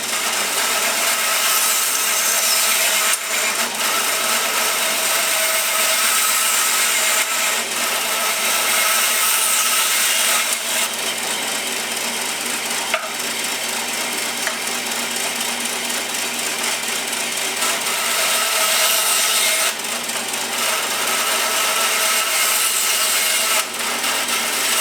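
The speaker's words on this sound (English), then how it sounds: "this is a metal cutting blade. I'm just going to cut these pins off to start with." A metal cutting blade grinds through the pins on an antler knife handle in a steady, loud, continuous whine that lasts the whole stretch, with no one talking.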